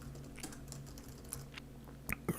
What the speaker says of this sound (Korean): 스페이스바 누르면 이렇게 공간도 뛸 수 있고.